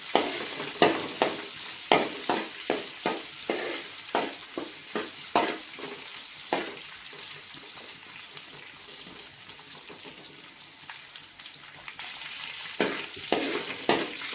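Onions sautéing in a pan for brinjal and drumstick sambar, stirred with a run of rhythmic spoon scrapes over a soft steady sizzle, a quieter stretch, then more scraping near the end; close, no talk.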